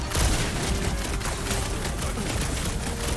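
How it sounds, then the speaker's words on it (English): Gunfire in Guardians of the Galaxy as shots are fired at clamps, a dense, continuous rattle of rapid bursts with low booms underneath, loud and close. "Then shoot the fucking thing. That's what I'm doing."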